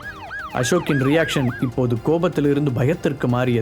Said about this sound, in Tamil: வெளியில் பலமான சைரன் சத்தம் கேட்க ஆரம்பித்தது